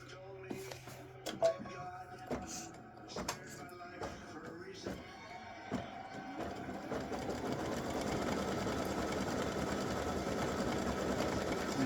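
An embroidery machine stitches an appliqué design: rapid mechanical needle thumps with intermittent clicks and jumps, then a steadier dense whirring run of stitching, fairly faint and alone.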